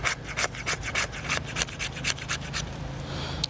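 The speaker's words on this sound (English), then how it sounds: "since this does have a really sharp spine, let's see if we can do a little" Sharp spine of a Gerber Principle knife scraping wood outdoors, a quick series of rhythmic rasping strokes, close and clear, about a dozen scrapes in a few seconds.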